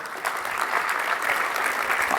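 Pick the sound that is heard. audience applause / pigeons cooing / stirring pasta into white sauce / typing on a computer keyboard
audience applause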